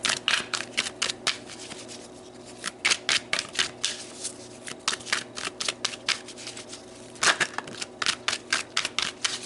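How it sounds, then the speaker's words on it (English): Tarot cards being shuffled and drawn: a long run of crisp, rapid riffling bursts and flicks, loud and close, with a brief pause near the middle before another flurry of card slaps. "let's pull some more cards"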